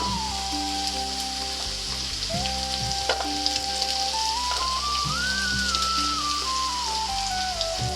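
Tubers sizzling in a pan while cooking for a mixed curry of drumstick flowers, raw mango and brinjal, a steady crackling fry with a continuous electronic tone over it.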